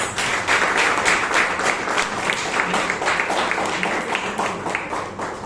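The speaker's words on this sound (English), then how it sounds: "give him a huge round of applause" An audience at a Bangalore Toastmasters meeting applauds the meeting organiser, a full burst of many hands clapping in a room that stays loud and continuous, with a few murmured voices underneath.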